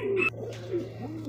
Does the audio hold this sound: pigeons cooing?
yes